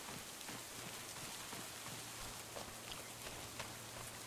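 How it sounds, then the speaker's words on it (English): Rain falls steadily and faintly on the Kinlaig map of a farming video game, a soft continuous patter throughout with no voices. "Hopefully this rain won't last."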